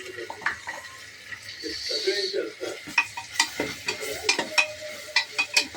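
Ginger-garlic paste frying in Amul butter and oil, for pav bhaji, hisses steadily while a spoon scrapes and clinks against the pan in repeated strokes, with light background voices.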